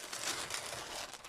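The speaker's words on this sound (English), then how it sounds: "stick the parchment paper to my craft mat" Parchment paper is crinkled and flipped over on a craft mat, giving a brief, close, papery rustle and crackle heard on its own.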